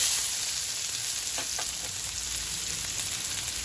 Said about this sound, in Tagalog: Lagyan na natin ng oil. Konting oil lang. Tapos lagay na natin yung ating bawang.